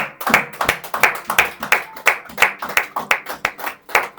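Church congregation clapping together in a steady rhythmic beat, about two claps per second, loud and close, filling a lively worship service with no voices over it.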